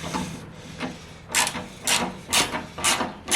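A powered ratchet with a 3/8 bit backs out bumper bolts on a Jeep Gladiator Willys OEM bumper, producing a steady mechanical drone broken by regular clicking, rasping pulses about every half second.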